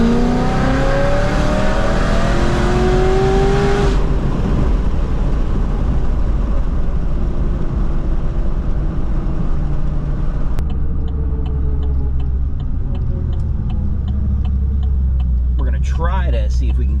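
A Chevy SS with a supercharged LSA engine gives a loud, close, sustained roar under hard acceleration, with rising whine early on and a steady rumble throughout.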